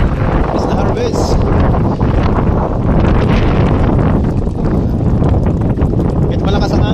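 Strong wind buffets the microphone outdoors during a trout fishing outing, a loud continuous roar with gusty fluctuations, with people talking over it.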